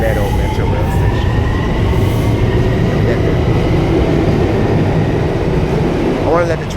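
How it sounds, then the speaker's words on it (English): A Miami Metrorail train passes close by in a loud, continuous roar of wheels and motors with rising and falling whine tones and a short squeal near the end. "I want to let the train go by, because I know you probably can't hear me because of that"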